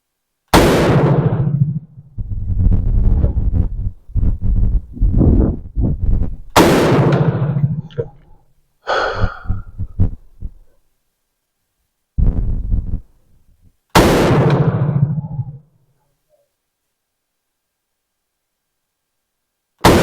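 An M16A1 rifle firing Turkish ammunition in semi-automatic mode, five separate loud sharp reports spaced seconds apart, with short stretches of quieter sounds between them.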